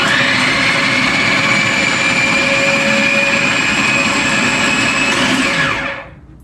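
A food processor whirs loud and steady as it blends spinach pesto with oil, a dense high motor whine with churning texture that holds for several seconds, then spins down and cuts off near the end.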